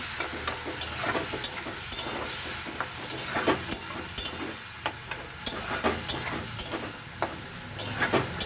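Spices with pointed gourd and potato sauté in a pan, a continuous sizzle broken by frequent rhythmic scrapes and knocks of the spatula, close and fairly loud, with no voices.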